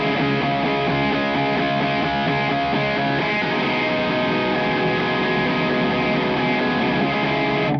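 A heavily distorted electric guitar plays a repeated riff with sustained, buzzing chords, loud and close throughout, ending abruptly with no voice over it.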